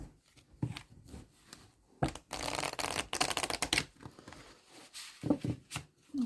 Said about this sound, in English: then I want to repeat the shuffle